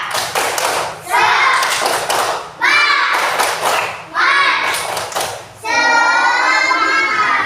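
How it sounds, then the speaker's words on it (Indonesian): Children in a classroom clap and chant a rhythmic 'tepuk semangat' cheer in several loud bursts separated by short pauses, with voices throughout. "Kita tepuk semangat dulu."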